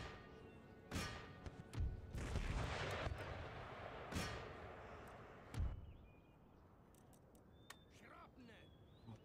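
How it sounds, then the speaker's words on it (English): Sharpshooters firing muskets in Empire Total War, with several sharp gunshot cracks and heavy thuds over a rumbling battlefield din, followed by quieter ambience and faint scattered reports. "Make sure my sharpshooters fire it off."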